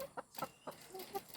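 Chickens on a small home poultry setup give several short, close clucks in an uneven rhythm, with no talking.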